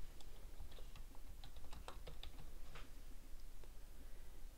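Typing on a computer keyboard: a quiet, uneven patter of key clicks throughout, close and alone with no voices.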